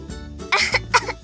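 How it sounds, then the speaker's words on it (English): A person coughs two or three times in quick succession, close and harsh, with a rough throat-clearing quality, in Roblox hospital roleplay. "Just a lot of coughing"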